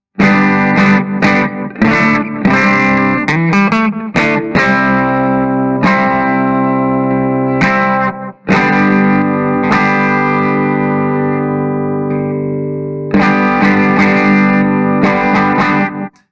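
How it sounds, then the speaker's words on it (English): Distorted electric guitar with a P90 pickup giving a gritty, crunchy tone, strummed chords and short riffs ringing out, loud and close, with a brief pause midway. "let's show you what the P90 sounds like"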